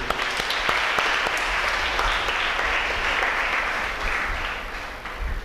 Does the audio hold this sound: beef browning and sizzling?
no